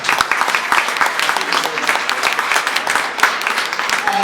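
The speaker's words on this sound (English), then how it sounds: "Please give yourselves a round of applause." An audience at a Norooz reception in Washington applauds itself, a dense, loud round of close clapping that carries steadily throughout.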